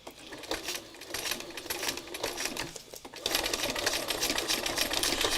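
A sewing machine stitches through plastic in rapid, even mechanical bursts, pausing briefly near the middle before resuming at a steady, slightly louder pace; close and fairly quiet, with no talking.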